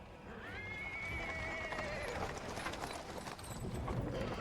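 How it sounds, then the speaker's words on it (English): A horse pulling a cart in the video game Pathfinder: Wrath of the Righteous whinnies with a drawn-out, wavering neigh over a steady background of rolling and hoof noise. "A cart drawn by a sad little horse appears from around the corner."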